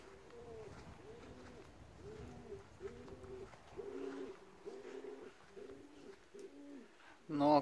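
Racing pigeons cooing in a loft, a series of soft repeated rising-falling coos in a steady rhythm, fairly faint and close, with a sharper sound at the very end.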